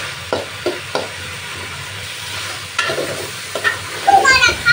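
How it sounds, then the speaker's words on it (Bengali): Mixed vegetables stir-fry with turmeric and salt in a pan, a steady sizzle under scraping stirs that grow louder and busier toward the end. "একটুখানি হলুদ আর লবণ দিয়ে নেড়ে চেড়ে নিচ্ছি।"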